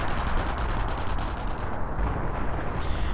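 Artillery barrages and rapid gunfire from a WWII strategy video game battle, a dense, continuous rumble of shots and blasts with no pauses.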